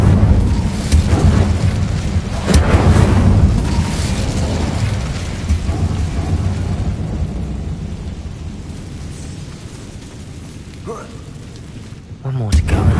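Fiery Incendio spell effect in a video game, a heavy rumbling blast that swells into a crackling roar and slowly dies away, with a sharp burst near the end.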